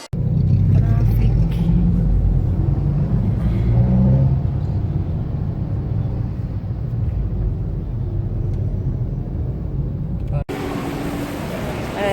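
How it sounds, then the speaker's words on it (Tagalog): Road traffic in Taguig, a steady low rumble of passing cars and engines heard from inside or beside a vehicle, loud and continuous, with voices talking over it. "Traffic."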